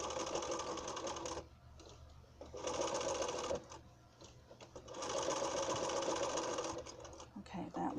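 A sewing machine stitches in bursts, its rapid mechanical whir starting and stopping several times with short pauses between runs, close and clear.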